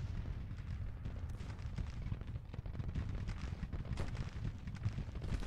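Field artillery from Grand Tactician: The Civil War, 12-pound field guns firing in a dense, continuous battle din of low booms and crackling gunfire, moderately loud with no clear single shots.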